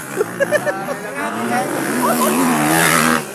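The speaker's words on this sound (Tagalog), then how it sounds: "Pagka-power, gitituyok ang motor." Racing motorcycle engine revving hard at a ladies-category final heat drag race, heard as a rising, buzzing engine tone. Excited shouting and crowd chatter run over it throughout.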